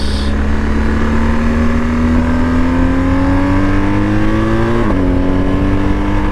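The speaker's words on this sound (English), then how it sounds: "we got some traction control right there on that 2 to 3 shift" A BMW GSA 1250 motorcycle accelerates on a wet road in rain mode, its engine note rising steadily and loudly up close before a quick dip at the shift from second to third gear, then pulling on.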